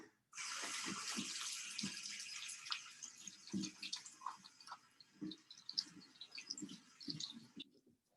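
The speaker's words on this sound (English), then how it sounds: "So I'm going to wash my hands really quickly." Water runs steadily from a kitchen tap as hands are washed beneath it, with soft splashes and rubbing moving in and out of the stream, fairly quiet and close, then the flow stops.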